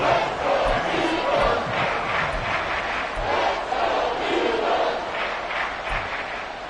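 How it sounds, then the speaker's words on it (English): A football stadium crowd cheers in a loud, continuous roar, the dense wall of voices swelling and dipping slightly throughout. "This crowd turning up the decibel level."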